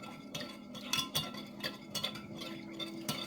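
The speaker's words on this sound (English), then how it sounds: "Give that a good stir" A spoon stirs a pork roast brine seasoned with black pepper and garlic powder, clinking and scraping against the container in quick, irregular taps; faint and close, with no voices.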